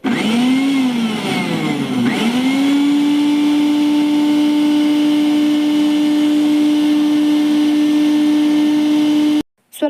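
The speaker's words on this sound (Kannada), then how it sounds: "ಇವಾಗ ನಾನು ಮಿಕ್ಸಿ ಮಾಡ್ಕೋತೀನಿ." A mixer grinder whirs loudly and steadily while blending fresh cream into butter, its motor pitch dipping and recovering early on before holding a constant hum, then stopping abruptly near the end.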